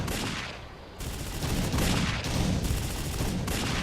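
Gunfire in the tank strategy game Codename: Panzer, a dense, continuous barrage of shots and booms rolling on for several seconds, loud and steady with a brief lull near the start.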